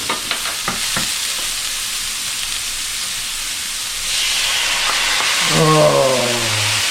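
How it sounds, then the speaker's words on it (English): Onion and garlic sizzle in a pan over medium heat, a steady close frying hiss with a few stirring clicks early on, swelling louder toward the end, and a brief rising-falling tone near the close. "our onion, and our garlic, and start getting this to caramelize"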